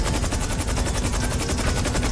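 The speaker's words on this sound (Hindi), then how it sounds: "ये जो हेलीकॉप्टर की आवाज बढ़ रही है" A helicopter in the game GTA 5 online thunders steadily with fast rotor chop throughout, loud and dense, with no talk over it.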